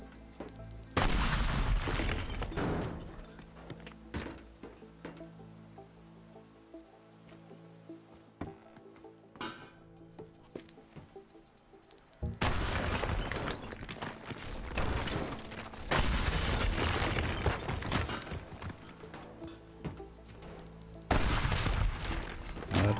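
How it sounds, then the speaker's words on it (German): Bomb blasts in the destruction game Teardown, several loud booming explosions with rumbling debris and crackling collapse, separated by quieter stretches of ambient hum. "Jetzt könnte ich ja theoretisch mal hier eine Bombe hinschmeißen."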